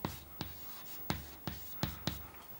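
Chalk or marker writing on a board during a calculus lesson on integration: six or so quiet, sharp taps and short strokes at an uneven pace, close and alone, with no voices.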